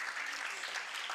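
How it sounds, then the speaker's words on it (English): Audience applause at a university lifelong-learning programme event, a steady wash of clapping hands that fills the short moment evenly with no pauses or voices. "Can we clap hands once again to thank Dr. James?"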